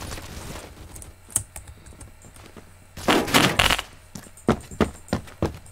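A computer keyboard clatters while someone plays the PC shooter Phantom Forces. Irregular clicks and thumps come in scattered bursts, then grow louder and denser in the second half.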